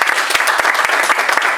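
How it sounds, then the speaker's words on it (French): An audience at a Paris inauguration ceremony bursts into loud, dense applause, a continuous close wash of clapping with no break. "que je vous demande d'applaudir aussi s'il vous plaît"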